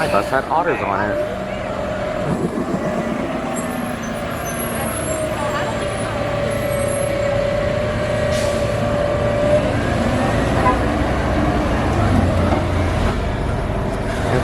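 A city bus on a Santa Cruz public transit route near UCSC rumbles along with a steady engine drone and a rising and falling whine, with brake hiss and a voice heard faintly at times.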